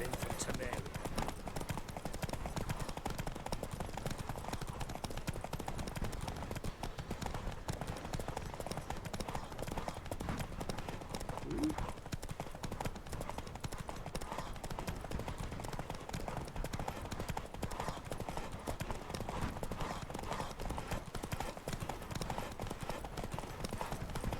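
Horse galloping in the video game The Witcher 3, a steady, fast clip-clop of hooves running on without a break under rushing ambient game sound, fairly quiet overall, with no voices.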